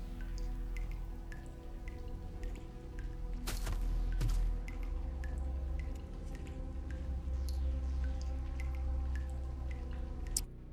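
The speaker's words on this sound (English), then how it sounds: "So we gotta make more drips." Liquid drips placed as ambient sound effects in a video game under development: scattered small plinks at an irregular pace over a low steady hum, with one louder splash partway through.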